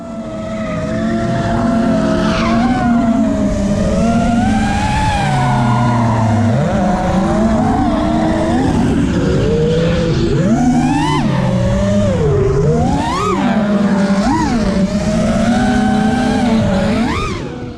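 A car drifts through a run of slides, its engine revving up and down alongside repeated tire squeals and skids, loud and close throughout as an FPV drone chases it.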